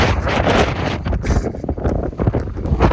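Outdoors in spring wildflower country near Fredericksburg, wind buffets the microphone in a constant loud rumble with gusty swells, no voices over it.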